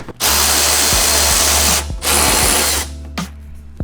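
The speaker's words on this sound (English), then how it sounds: "you want to push this back far enough to where you can get your socket or easy ratcheter" Power tool whirring steadily, then pausing briefly and restarting, loud and close, as a 7 mm bumper bolt is removed on an Ecoboost Mustang during an intercooler install.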